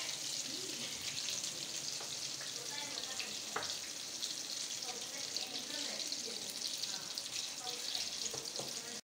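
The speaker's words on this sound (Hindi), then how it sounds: "हम इस तरह एक एक करके हम फासले से डालते रहेंगे और इसको भी हम गोल्डन फ्राई करेंगे" Pakoda fry in hot oil, a continuous bubbling sizzle with small pops and occasional clinks as pieces are added, close and fairly even throughout, with faint talking underneath.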